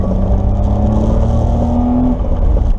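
A Honda Beat car is driven on the road, heard from inside as a loud, steady engine drone with a low rumble and a rising whine that climbs slightly and then cuts off, with no talking.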